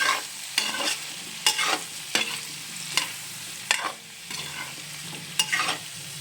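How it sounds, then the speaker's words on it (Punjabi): A spatula scrapes and stirs potatoes with pav bhaji masala in a hot pan, giving repeated rhythmic scraping strokes over a faint steady sizzle. "ਹੁਣ ਅਸੀਂ ਇਹਨਾਂ ਨੂੰ ਸਾਰਿਆਂ ਨੂੰ ਮਿਕਸ ਕਰ ਲਾਂਗੇ ਮਸਾਲਿਆਂ ਨੂੰ"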